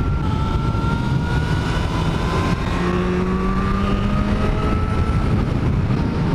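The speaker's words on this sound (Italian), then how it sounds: "come potrete sentire, il solito vento sempre ci fa compagnia" Steady, loud wind roar buffets the microphone throughout, with a motor's rising engine tones running underneath as the ride continues.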